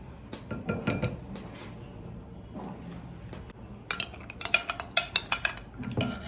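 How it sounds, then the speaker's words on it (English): A spoon stirs a half teaspoon of organic honey mixture in a glass, first with soft scraping, then with a quick run of sharp, bright clinks against the sides, close and fairly quiet. "Then you mix together thoroughly"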